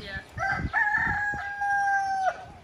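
Chickens on a Nigerian street: a rooster gives one long, loud crow over scattered clucking and street noise, with brief talk in the background.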